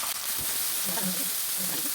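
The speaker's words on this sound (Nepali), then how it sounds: "त्यसलाई काटेको प्याजलाई फ्राई गर्नु" Chopped onions fry with half a spoon of cumin in leftover oil for a paneer butter masala, a steady loud sizzle close by with a soft voice murmuring briefly underneath.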